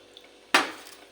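Water poured from a bowl into a hot pot on a gas stove while cooking semolina, a single sudden loud splash and sizzle that quickly fades, with no talking.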